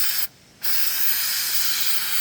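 An aerosol can of clear Flex Seal coating hisses steadily and loudly while spraying onto roof shingles, with one short pause early on before the spray resumes.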